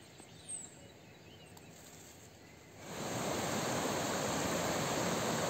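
Steady broadband rushing of a flowing river on a long-distance trail in Croatia, soft at first and then swelling abruptly to a loud, constant wash of water, close by with no talking.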